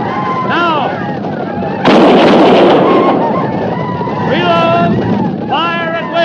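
A rifle volley bursts out in a frontier fort battle scene of a radio drama, a loud dense crack of gunfire under shouted voices and battle noise, with more sporadic shots trailing after.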